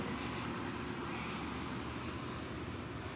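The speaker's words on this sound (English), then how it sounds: "Here comes a Frontier flight from Las Vegas." A Frontier Airlines jet arriving from Las Vegas at DFW Airport at night, a steady broadband engine roar held at even loudness throughout, with no voices.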